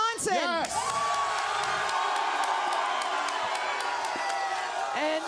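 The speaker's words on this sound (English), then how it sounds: "They kept on cheering." A large crowd of college football fans cheers loudly and steadily, with whoops and shouts rising from a dense, continuous roar, while a voice speaks over it at the start and end.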